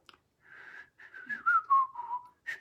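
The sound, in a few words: person whistling the Lost in Space theme song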